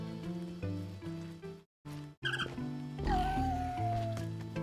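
A Killer Bunny enemy in the Braid video game meows over steady game music, the cat-like cry standing out briefly near the end after a short break in the soundtrack.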